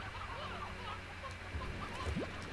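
A few soft hen clucks from a farm in the video game Slime Rancher, faint and close under a low continuous background hum.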